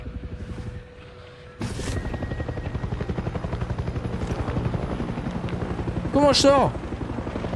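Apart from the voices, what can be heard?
helicopter in a video game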